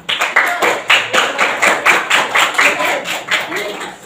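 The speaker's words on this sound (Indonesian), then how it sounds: "Silakan kasih aplaus dulu." Students in a classroom mathematics lesson clap together in a steady, even rhythm of about two claps per second, close and moderately loud, with no talking over it.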